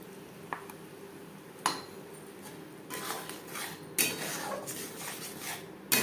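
Nut paste of cashew, raisin and peanut being stirred into a katla fish curry, a spoon scraping and clinking against the metal pan in irregular bursts, louder toward the end, with no talking.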